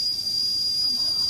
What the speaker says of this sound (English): Hear the steam right here? Listen.